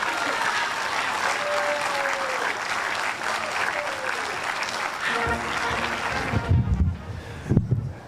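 Steady audience applause at a city council evening event honoring Elizabeth Cady Stanton, a dense crowd clapping for about six seconds before thinning into a few louder scattered claps and rustling near the end.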